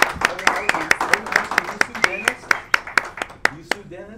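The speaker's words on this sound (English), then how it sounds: "Give her a round of applause." A few people clap in a sparse, rhythmic pattern for a performer on a local variety show, with distinct individual claps over ongoing speech and laughter.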